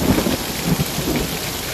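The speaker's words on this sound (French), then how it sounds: "Tempête à Ankara." A thunderstorm over Ankara brings steady, dense rain with a deep rumble of thunder beneath it, loud and constant across a short moment with no voices.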